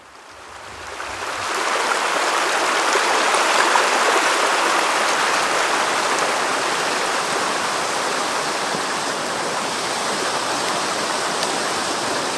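Rushing river water on a canoe camping trip, a broad steady wash that fades in over the first couple of seconds and then holds loud and constant.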